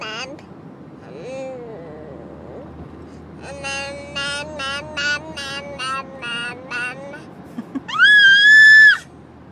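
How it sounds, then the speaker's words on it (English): A ten-month-old baby girl lets out a run of high, rhythmic screams and squeals, followed by one long, loud shriek near the end, heard up close in a quiet room. "Why are you screaming?"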